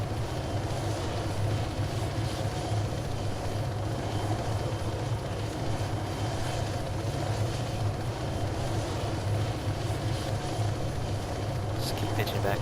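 A steady, droning helicopter engine and rotor in the Arma 3 video game, heard during a landing and holding a constant level with no voices over it.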